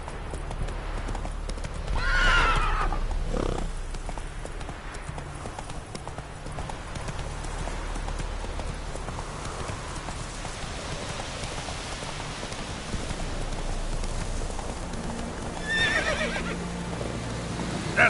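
Horse in The Witcher 3 video game clip-clopping steadily through rain, with whinnies near the start and again toward the end, rainfall pattering throughout at moderate level.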